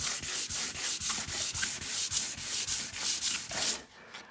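Hard, rhythmic rubbing strokes on a hand-painted kitchen surface, about a dozen even back-and-forth passes at steady pace, close and fairly loud, ending abruptly with no talk.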